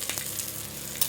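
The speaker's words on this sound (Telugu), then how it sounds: "చట్నీకి తాలింపు అన్నమాట" Turmeric and spices sizzle in hot oil as a tempering for chutney: a brief, soft, even hiss with a couple of small crackles.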